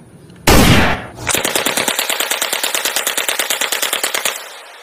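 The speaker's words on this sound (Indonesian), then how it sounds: "Wow, yang ini senapan jadul." Old-fashioned rifle fired in a weapon-collecting video game: one loud blast, then a rapid run of about thirty evenly spaced shots rattling off close and loud before stopping abruptly.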